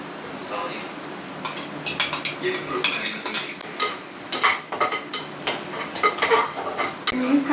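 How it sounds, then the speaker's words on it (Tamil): Tomatoes fry with a soft sizzle while a utensil repeatedly scrapes and clinks against the pan in quick, uneven strokes, close by. "தக்காளி வதங்கிட்டு இருக்கு."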